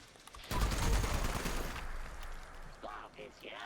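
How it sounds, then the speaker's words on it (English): Burst of rapid automatic gunfire in the video game Fallout 76, a loud sustained volley that fades out, followed by faint chirping in-game effects; someone speaks briefly. "The hell is shooting me?"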